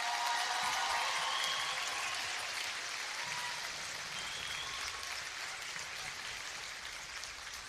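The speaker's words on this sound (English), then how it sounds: "Give them a round of applause." Sustained audience applause at a 2024 West Union High School graduation ceremony, a dense wash of many hands clapping that stays steady and slowly eases off across the whole stretch.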